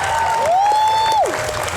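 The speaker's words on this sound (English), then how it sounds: "Can we get the applause going? Can we get the cheering going for Kristin Hersh?" Steady, dense applause from an audience fills a literary reading session, with a sustained whistle rising above the clapping partway through.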